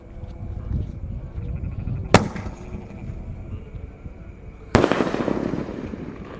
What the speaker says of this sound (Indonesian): kita akan menyalakan mercon Langmas